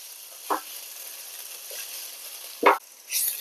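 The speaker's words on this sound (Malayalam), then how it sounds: "ഉള്ളി വഴറ്റി കിട്ടും." Onions sauté gently in just a little oil for a spicy chicken masala pasta. A soft, steady hiss sits underneath two brief, louder spoon scrapes against the pan, with no voices.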